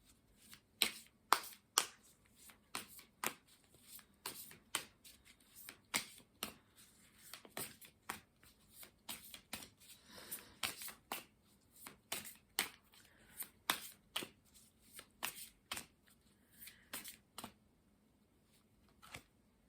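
An oracle deck of cards is shuffled by hand in a quiet room, with a long run of crisp, irregular riffling snaps and soft slaps close to the microphone and no talking.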